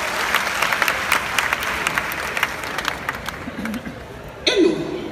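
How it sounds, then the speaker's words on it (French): Steady applause from a crowd, dense and sustained, with a brief voice or shout near the end. "Est-ce qu'on peut applaudir pour la première dame,"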